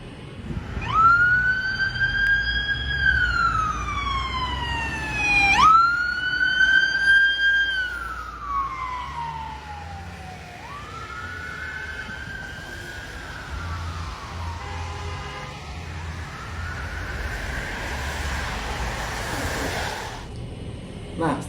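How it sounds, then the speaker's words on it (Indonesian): An ambulance siren passes by on a street, its wailing tone sweeping up and down and dropping in pitch as it goes past, loud at first and then fading as it moves away. "Apakah cuma hanya ambulan yang lewat saja?"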